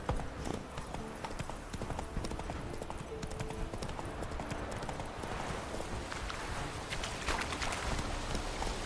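Roach, the horse in The Witcher 3, gallops with fast, continuous hoofbeats that pound steadily under a busy, noisy game background, fairly faint overall, with some speech at moments.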